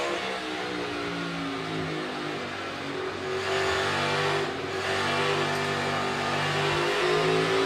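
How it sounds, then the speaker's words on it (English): A NASCAR Cup Series car engine on the Bristol dirt track holds a steady, smooth high-pitched drone through a corner, swelling slightly in revs partway through, loud and close with no talking. "Good smooth throttle transition into the corner."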